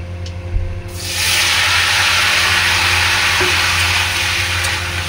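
Tomatoes dropped into hot oil spiced with panch phoron: a quiet moment, a clatter, then a loud, sustained sizzle and hiss that holds steady to the end, with no talk.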